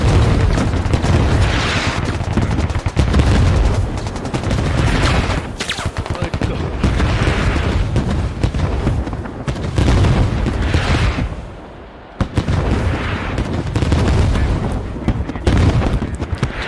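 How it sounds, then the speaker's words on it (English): Sustained gunfire pours into a forest during a video game battle in Arma SquadOps, with dense overlapping rifle and machine-gun bursts and booming impacts forming a loud, continuous wall of noise. "firing into the forest now."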